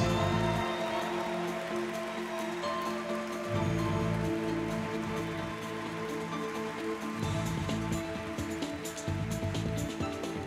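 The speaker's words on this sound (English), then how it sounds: "Let's give a round of applause to our Volunteer of the Year honorees" An audience at the Governor's Service Awards applauds the Volunteer of the Year honorees with a steady, dense wash of clapping that lasts throughout, with a low musical hum underneath.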